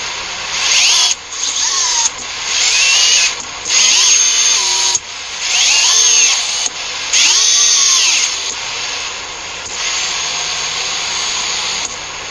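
Small drone motors with rough, salt-pitted bearings whine loudly and steadily, rising and falling in pitch through several throttle surges with a harsh buzzing edge, close up and without talk.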